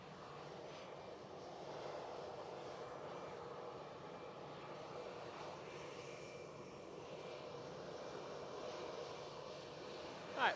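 An Emirates airliner roars at Manchester Airport, a steady, fairly distant engine rumble holding for several seconds with no talk over it.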